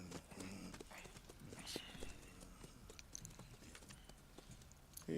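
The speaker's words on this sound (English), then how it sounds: "And a fine new horse." Horse hooves clip-clop in Red Dead Redemption 2 at a horse stable, a quiet, steady patter of light hoofbeats with faint clicks and background game ambience throughout.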